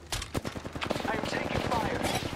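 Rapid gunfire in the video game Apex Legends, dense bursts of close automatic shots crackling continuously, with a voice speaking over them.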